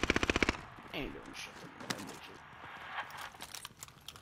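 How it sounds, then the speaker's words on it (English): Video game gunfire in a multiplayer match: a rapid burst of about eight automatic shots up front, followed by scattered fainter shots while players talk over it. "They're shooting at you."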